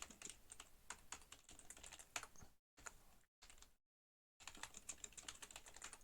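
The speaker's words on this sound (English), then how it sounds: "Type on the computer." Quiet clicking of keys on a computer keyboard in a Sierra-style adventure game, irregular keystrokes broken by brief pauses and one longer silent gap before the typing resumes.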